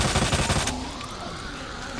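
Automatic rifle fire in Resident Evil 2 Remake, a loud rapid burst of shots that cuts off about two-thirds of a second in, leaving a fading echo and a thin high whine.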